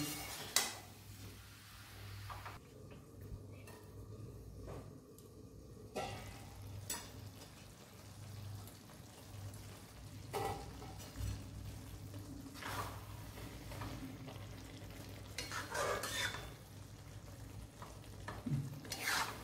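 Zucchini being stirred and softened in a pan, with a steady low sizzle and occasional scraping utensil strokes against the pan, close and moderate in level throughout.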